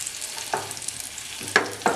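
Dry fruits frying with jaggery and dates in a pan over a medium gas flame, a low steady sizzle broken by a few soft stirring scrapes, close and alone with no talk.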